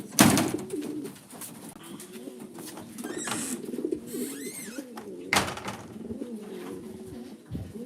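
Racing pigeons coo steadily in a loft during basketing before a race, a continuous close chorus of low throaty calls with occasional wing flaps and brief higher bird chirps.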